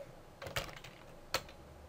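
A few quick keystrokes on a computer keyboard, two sharper clicks among softer taps, close and faint in a quiet room.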